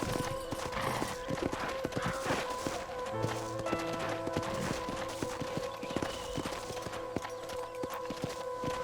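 A horse gallops in Red Dead Redemption, a fast rhythmic clip-clop of hooves running continuously throughout, with game ambience and a low tone layered underneath.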